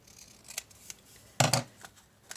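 Scissors trim a folded paper strip for a bookmark in a quiet room, giving a few faint, crisp snips with a louder double cut in the middle.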